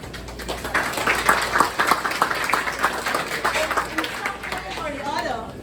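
An audience at a Lions Club chapter fundraiser breakfast gives Lions Club members a round of applause, with steady overlapping claps and chatter running through it.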